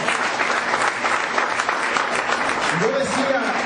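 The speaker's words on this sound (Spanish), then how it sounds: "Pueden darle un fuerte aplauso al Señor." A church congregation bursts into strong applause during a Spanish-language sermon, dense and loud clapping filling the room throughout, with a brief voice rising near the end.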